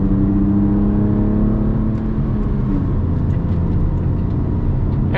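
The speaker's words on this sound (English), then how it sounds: "I've got that amazing Audi R8 GT3 car coming up behind me" An Audi R8 GT3 race car comes up and passes on a race track, a loud, close engine roar with a steady droning whine that rises and falls slightly as it goes by.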